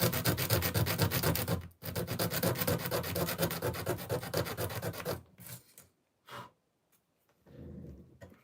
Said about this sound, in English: Sand it.